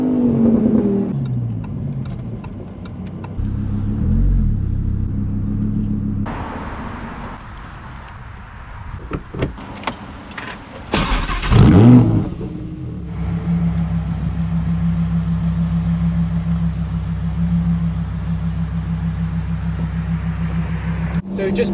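A Lamborghini Huracan Performante Spider drives with its roof down, giving a loud, steady engine drone that rises and falls, with a sharp louder burst midway and voices at times.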